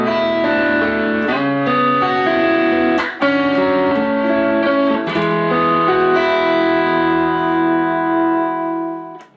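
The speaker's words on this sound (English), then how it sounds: "the Nano Attack gives me a light boost, more drive, and a bit more bite to the tone." Electric guitar played through a Nano Attack boost and drive pedal, giving a lightly boosted, driven tone with extra bite; sustained chords ring steadily and alone, with a brief dip near the middle before fading at the end.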